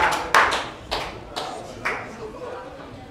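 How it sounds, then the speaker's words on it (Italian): A few scattered claps and slaps ring out, sparse and uneven rather than full applause, fading under a quiet room. "Ragazzi, un applauso a Capretta."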